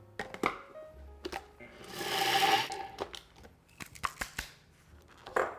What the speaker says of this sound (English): So we're just going to blend this until it's a pretty fine flour.